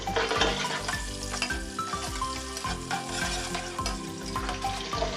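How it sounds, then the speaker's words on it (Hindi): One medium onion frying in hot oil after garam masala for chicken yakhni pulao, giving a steady, close, continuous sizzle with faint stirring and no voices. "प्याज को सुनहरा होने तक तलेंगे।"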